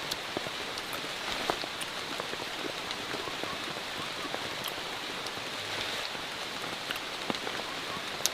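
Steady rain falling in the Borneo jungle, a dense continuous patter of drops on leaves and surfaces with occasional louder individual drips, constant throughout and heard alone.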